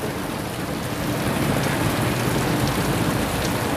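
Heavy rain pours down steadily and loudly in a dense, unbroken hiss, with no voices over it.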